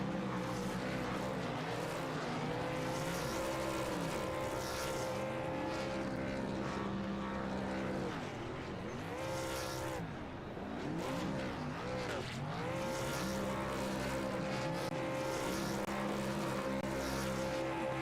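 A pickup truck in a racing video game does burnouts at Bristol, with a loud, continuous engine roar and revving that briefly dips around the middle before surging again.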